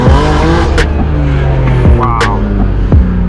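BMW E30 wagon engine going past loudly and close, with harmonic engine tones rising and falling as it revs through several changes, plus sharp clicks or pops.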